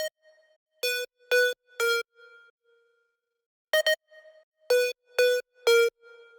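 A solo detuned synth layer treated with saturation, reverb and EQ plays clusters of short, bright, buzzy stabs in groups of three, with quieter echoing tails and gaps of silence between the phrases.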